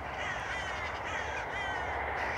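Crows cawing during nesting season as they mob a buzzard along a countryside walk near Pangbourne, a dense, continuous clamor of harsh calls at a moderate distance with no talking.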